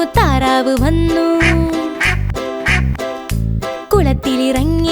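A duck quacks in a Malayalam nursery rhyme, short nasal calls popping up in a regular rhythm against a steady, upbeat musical backing.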